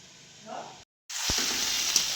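Cluster bean pods drop into hot tempering oil on a home gas stove, bursting into a loud, steady sizzle after a short silence, with a light stir clink.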